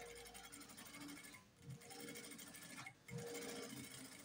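An industrial sewing machine top-stitches leather-style panels, its motor humming and needle chattering steadily at close range, with two brief pauses and no voices.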